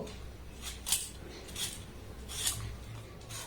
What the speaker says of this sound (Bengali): প্রথমে আলুর খোসাটাকে আমি খুব ভালোভাবে ছাড়িয়ে নেব